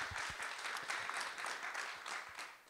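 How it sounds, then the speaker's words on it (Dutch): Audience applause at a Dutch science talk, steady sustained clapping from a crowd heard fairly faint throughout, with no talking. "Mag ik een applaus voor Inge Loes ten Katen."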